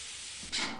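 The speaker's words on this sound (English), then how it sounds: "There's steam down here." Steam hisses in the video game Lethal Company: a steady broadband hiss that swells sharply louder about halfway through and stays strong and close to the end, with no talk.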